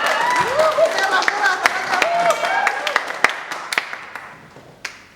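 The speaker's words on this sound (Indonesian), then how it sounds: "Beri tepuk tangan dulu dong, buat semangat mereka." Audience applause at a 2023 Q&A event, a patter of claps under ongoing talk that thins into scattered, sharper single claps toward the end.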